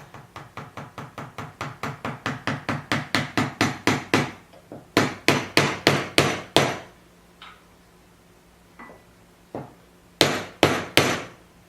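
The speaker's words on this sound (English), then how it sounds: "And just tap it until it's seated on there really well." A hammer taps an awl blade into its wooden haft held in a vise, first as a long accelerating run of sharp strikes, then short groups of harder blows with pauses between them, close and loud with no speech.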